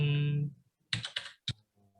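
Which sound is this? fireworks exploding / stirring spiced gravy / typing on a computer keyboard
typing on a computer keyboard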